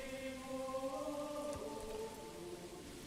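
Steady rain patters in the Manor Lords medieval city builder, a soft continuous wash over sustained game music tones, with one faint low thud midway and no voices.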